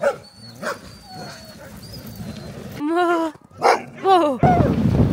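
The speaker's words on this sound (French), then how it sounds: "On va faire du chien de traîneau." Sled dogs in Lapland near Rovaniemi bark and whimper excitedly before a ride, with sharp yips, a run of whining howls, and barking both near and farther off, joined by some background voices.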